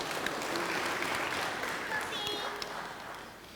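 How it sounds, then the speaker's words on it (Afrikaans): A church congregation at a children's service claps hands together, a dense, steady wash of applause that fills the room and fades slightly toward the end. "Daar sê julle kan maar hande klap, ons het goed gedoen."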